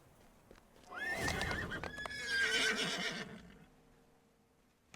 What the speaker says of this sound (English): Get your horse ready.